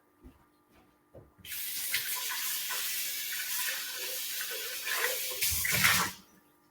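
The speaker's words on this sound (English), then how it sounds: "Let me just rinse this out and we'll make the nut milk." A container is rinsed out under a running kitchen tap before nut milk is made: a steady, close rush of water that starts after soft handling clatter and runs for several seconds, then cuts off.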